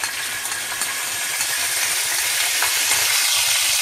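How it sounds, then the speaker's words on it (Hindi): Fenugreek seeds and cumin crackle as they are tempered in hot oil for a Konkani kalchora fish curry, an even, close, loud sizzling hiss with fine spattering and no voices. "अभी देखो, बघार दे रही हूँ मैं, मच्छी के सालन को बघार दे रही हूँ"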